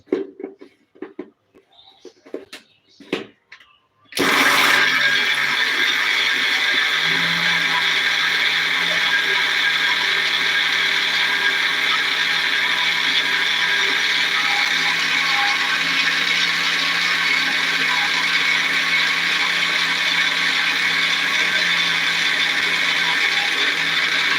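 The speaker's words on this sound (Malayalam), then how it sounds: "ഇങ്ങോട്ട് വെച്ചു കൊടുക്കാം മിക്സിയിലേക്ക്" A mixer grinder whirs loudly and steadily as it grinds chammanthi chutney ingredients with Kashmiri chilli and water, starting abruptly after a few seconds of quiet handling clatter and then holding a constant high-pitched electric roar to the end.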